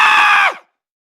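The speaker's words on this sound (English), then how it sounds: "Rocky let out a scream before hitting the pavement" Someone falling off a roof lets out a single loud, sustained scream that cuts off abruptly after about half a second, followed by silence.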